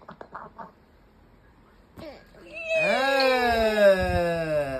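A brief murmur of voices, then a loud, drawn-out meow that wavers in pitch and lasts a couple of seconds, close by.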